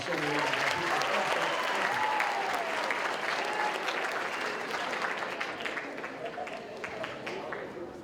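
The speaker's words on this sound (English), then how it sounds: "Y'all do me a favor and give another round of applause to Michelle." Sustained audience applause at a high school assembly, a dense crowd clapping that fills the room at steady volume and slowly tapers, with a few voices mixed in.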